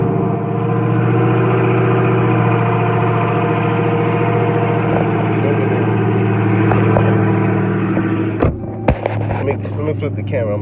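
A Dodge Hellcat engine idles steadily inside a garage, a loud, constant low rumble filling the whole stretch, with a couple of brief knocks near the end.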